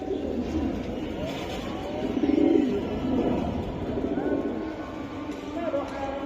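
Racing pigeons from various clubs coo in a loft, soft repeated throaty calls rising and falling at close range, with a brief louder burst midway and people talking nearby.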